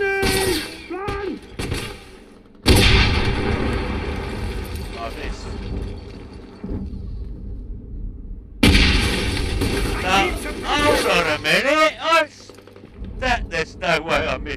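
Gunfire and a grenade explosion in the video game Wolfenstein, loud bursts of rapid shots and booming blasts in two heavy waves, with shouted voices and quieter gaps between.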